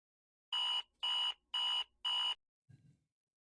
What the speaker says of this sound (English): This is my early alarm.